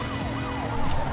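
Police sirens wail and sweep continuously in a street race from the Need for Speed Most Wanted video game, loud and close over rumbling engine and game noise, with no talk.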